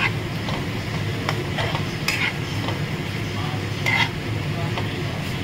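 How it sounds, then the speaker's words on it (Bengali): Bottle gourd peel and potatoes frying in a pan with turmeric, a steady sizzle with occasional light clicks of a spatula against the pan, close and continuous. "ছিলকা আলুটাকে ভালো করে ভেজে নিচ্ছি"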